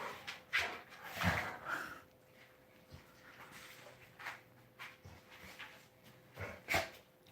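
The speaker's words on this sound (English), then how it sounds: "in the background are my previous dogs" Saint Bernard dogs make several brief barks, snorts and whimpers at moderate distance, coming in irregular bursts with short quiet gaps between them.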